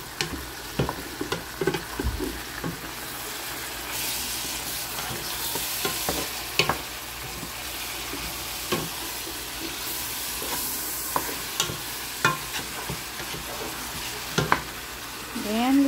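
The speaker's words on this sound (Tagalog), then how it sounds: "Ayan lang, halu-haluin hanggang maging golden brown para mawala yung lansa ng manok or chicken." Chicken pieces fry over high heat in a pan with a splash of fish sauce, a constant hissing sizzle broken by repeated spatula scrapes and sharp clacks as the meat is stirred until golden brown.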